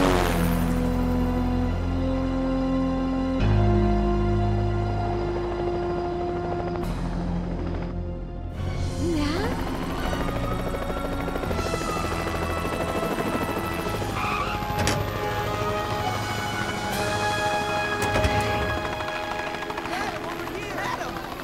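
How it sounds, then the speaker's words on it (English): A helicopter's rotor drones steadily throughout, layered with music and busy cartoon-style sound effects. "the helicopter is ready for takeoff"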